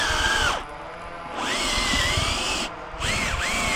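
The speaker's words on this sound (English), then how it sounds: "A cordless drill is much cheaper." A cordless drill whines as it bores through material, its pitch rising and falling in three bursts separated by short pauses.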